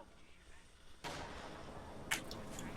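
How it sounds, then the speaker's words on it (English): Gunfire from rifles and a sniper in the World War II strategy game Company of Heroes 2, with a sharp blast followed by a sustained roar of combat and a brief crack, heard at low level. "Still getting shots."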